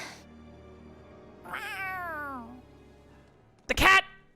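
A cat meows in the video game Tales of Arise, with one drawn-out, falling meow at middle distance, then a sharper, louder yowl near the end over faint background music.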